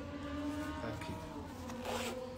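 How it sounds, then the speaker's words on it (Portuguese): Motorcycles revving somewhere outside, a steady buzzing engine drone with slight rises in pitch that carries on throughout, with no talk over it. "Essas motos que fazem esses barulhos"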